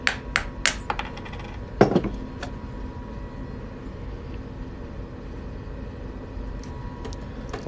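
Hammer strikes on a 1965 quarter being shaped into a coin ring, a few sharp metallic taps near the start and one heavier blow, then quieter handling in a room.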